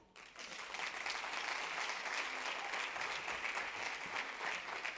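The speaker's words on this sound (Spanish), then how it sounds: "Así que un fuerte aplauso para Sofía Osorio" Loud, sustained audience applause for a cook at a Spanish-language cooking event, a dense, even wash of clapping that starts abruptly and holds steady for about five seconds with no speech over it.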